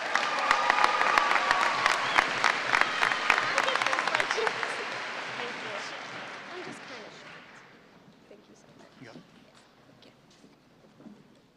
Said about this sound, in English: Can I get a round of applause for Caitlin?